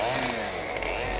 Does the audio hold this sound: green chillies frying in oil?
no